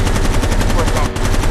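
Rapid automatic gunfire in the Gangster Vegas video game, a loud continuous burst of evenly spaced shots running throughout with no pause.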